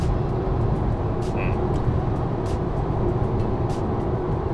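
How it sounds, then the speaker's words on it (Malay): Steady broadband cabin roar and wind rush inside a Volvo EX30 electric car cruising at 120 km/h, constant and moderately loud with no speech. "Saya rasa bunyi yang paling ketara dalam kabin ni adalah bunyi wind noise,"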